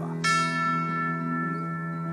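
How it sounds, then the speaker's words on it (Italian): A single church bell of St. Peter's strikes once, a clear struck tone that rings on with a long, slowly fading hum. "Rintoccano le campane di San Pietro"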